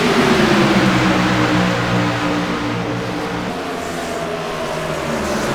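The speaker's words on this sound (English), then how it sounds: "Great side-by-side racing going on." Race cars compete side by side at Michigan International Speedway during a Tornado Tailgater chase race, their engines making a loud, sustained droning roar that eases slightly as they pull away.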